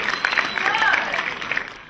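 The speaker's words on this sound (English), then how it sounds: "Give him a nice round of applause" A short round of applause from a live audience at an insurance-industry event hosting segment, with crowd clapping that swells briefly and is overlaid by talking and chatter.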